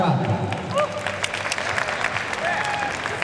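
Applause from the crowd at a TWOFC fight night after Yusuke Kojima's victory, dense steady clapping mixed with cheers and a voice rising over it.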